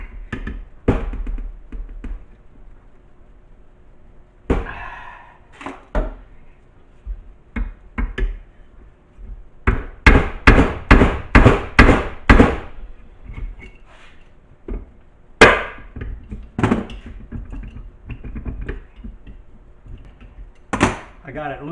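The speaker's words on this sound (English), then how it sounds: "you smack this with a hammer and it'll pop whatever's on that taper" Sharp metallic hammer blows ring out against a wheel puller on a Rotax 582 engine, first scattered, then a fast run of about ten hard strikes, with a few more after pauses.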